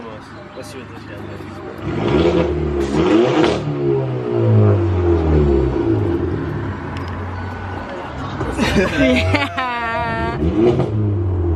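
A 2018 Hyundai Elantra Sport fitted with an 845 Motorsport catless downpipe revs hard in repeated rising and falling bursts near the listener, with voices talking over the engine.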